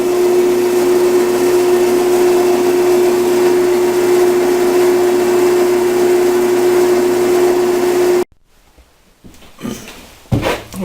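A metal lathe takes light finishing passes along a Troy-Bilt tiller shaft, giving a loud, steady machine drone with a sustained tone for about eight seconds before cutting off abruptly, followed by a few faint clunks.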